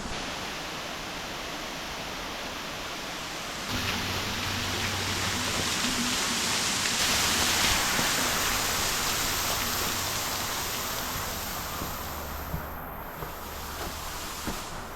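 Steady broadband rush of a waterfall stream flowing at Springbrook in Queensland, running on without pause and swelling slightly midway, with no talk over it.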